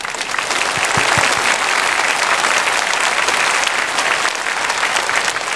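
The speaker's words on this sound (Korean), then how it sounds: "여러분 큰 박수로 환영해드리겠습니다" A church congregation applauds loudly to welcome missionaries during a Sunday service, with a full, sustained wash of clapping from a large crowd filling the room and staying even throughout.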